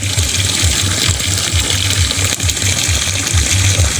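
Steady rushing water flows continuously through a tilapia pond drain, with a low rhythmic pulsing churn underneath, close and fairly loud throughout.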